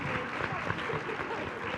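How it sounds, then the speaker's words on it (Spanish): Short burst of audience clapping at a women human-rights defenders event, moderate and a little distant, with faint voices mixed in. "Ana Cris, un aplauso para Ana Cris."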